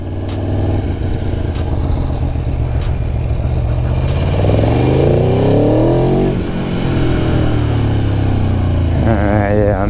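A 175-horsepower 2019 Aprilia Tuono V4 1100R Factory motorcycle, its V4 engine heard up close as a loud continuous roar that rises and falls through revs, with talk mixed in over the engine noise.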